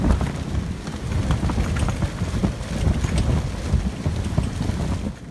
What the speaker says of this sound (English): the wind gusts coming off the ocean are insane